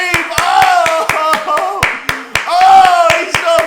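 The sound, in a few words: sarcastic applause, clapping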